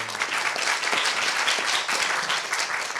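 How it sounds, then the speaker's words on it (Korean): An audience at a research-institute talk concert applauds with dense, continuous clapping that stays loud and even throughout. "박수 보내주시죠"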